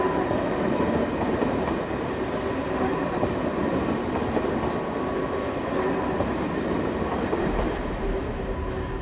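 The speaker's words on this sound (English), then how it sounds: "a direct Paris to London Eurostar is seen departing from the international station" A direct Paris to London Eurostar train departs Ashford International station with a loud, steady rumble of wheels and carriages rolling on the track, continuous and close.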